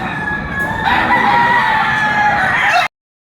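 A sweater-breed gamecock at a Padre Garcia market crows loudly and close by, one long drawn-out call that rises and holds before cutting off abruptly, with no voices over it.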